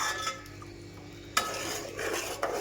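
Sugar syrup for rava laddu being stirred in a pan, with soft scraping and clinking of the spoon against the metal, a few sharper knocks standing out in a quiet kitchen.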